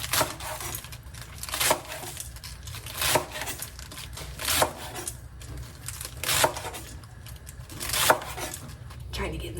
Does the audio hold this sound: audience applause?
no